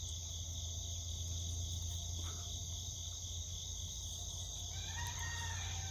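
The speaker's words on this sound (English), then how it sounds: "That's all you're hearing is just chickens." Chickens cluck and a rooster crows outdoors, faint and distant beneath a steady high drone of crickets and insects, with the crowing rising briefly near the end.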